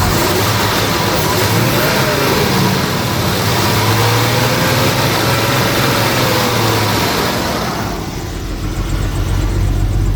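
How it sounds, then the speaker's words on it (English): A 1988 Jaguar V12 Sovereign barn find runs rough on only nine cylinders. Its engine note is a loud, steady drone with a slight rise and fall in pitch, close up, and it eases off near the end. "She's only running on 9 cylinders."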